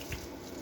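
Cold water collected from an air conditioner splashes briefly onto lemongrass plants, close and soft, alone without voices.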